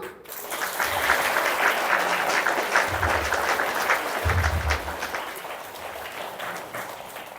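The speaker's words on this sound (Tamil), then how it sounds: "Give them a big hand." Audience applause at a motivation program, a dense, steady wash of clapping from a large crowd lasting throughout, fairly loud and even with no voices over it.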